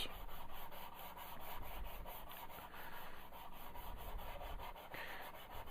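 A sanding stick rubs lightly across cured putty on a plastic part, making a steady, rhythmic series of soft, close scratchy strokes with no talking.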